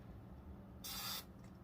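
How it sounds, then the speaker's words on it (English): Hairspray misted onto hair from an aerosol can, a single short hiss lasting under half a second, close and clear against a quiet room. "I'm going to give my hair some hairspray"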